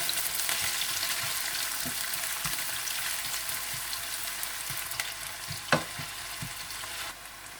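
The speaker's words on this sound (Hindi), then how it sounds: "और प्याज को आप गोल्डन ब्राउन कर लें।" Chopped onions frying in hot oil for beef pasanday, a steady close sizzle with occasional stirring taps and one louder scrape, no talking.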